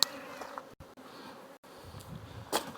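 Honey bees buzz around a cell builder hive in a beekeeping yard, a steady low drone with brief louder passes close by and a couple of short gaps.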